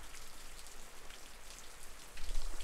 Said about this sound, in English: never complain about rain, always welcome it, but sometimes we just gotta work around it